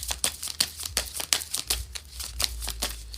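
Tarot cards being shuffled by hand, a run of crisp papery riffles and flicks in an uneven rhythm, close and moderately loud with no talking.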